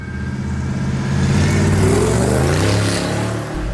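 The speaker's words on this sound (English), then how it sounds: "When it gets up high, it sounds awesome. What does it rev up to?" Supercharged 1968 Ford F100 pro touring truck engine revving, a loud, close, rising and falling roar with no talk.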